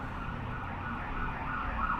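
An ambulance siren passes, a steady wailing tone over a constant road rumble, moderately loud and heard without talk.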